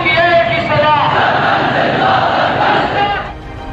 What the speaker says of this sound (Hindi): कई किलोमीटर तक फैली इस भीड़ को देखिए और इस बागी शोर को सुनने और समझने की कोशिश कीजिए